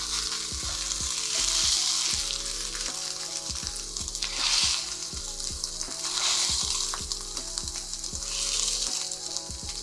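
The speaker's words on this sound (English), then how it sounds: "For our sausage, we're just gonna press that nice and flat and get a sear on both sides before breaking it up" Sausage pressed flat sears in a hot pan with a bright, steady sizzle heard close up. A regular series of low knocks and taps from the spatula repeats under the hiss, and the sizzle swells and eases a few times. No voices.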